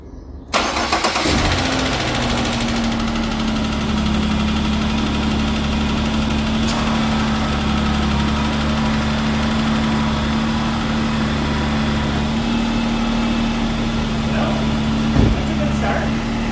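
An old engine starts with a brief crank and catches, then settles into a steady, loud, close idle with a constant low hum that runs unbroken to the end.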